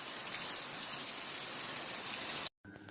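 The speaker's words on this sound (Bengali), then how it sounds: "অঝোর বৃষ্টি হচ্ছে, অঝোর বৃষ্টি, এদিকে অঝোর বৃষ্টি হচ্ছে" Heavy, continuous rain pours down in a dense, even hiss, then cuts off abruptly near the end, leaving a brief quieter stretch.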